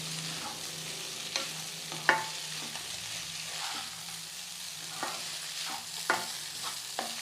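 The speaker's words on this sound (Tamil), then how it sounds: "இப்போ இதை நல்லா வதக்கிடலாங்க. அவலும் நல்லா சூடாக வதங்கி வரணும்." Soaked poha, flattened rice, is stirred and sautéed in a hot pan, producing a soft steady sizzle broken by repeated scraping strokes of a spoon at an irregular pace.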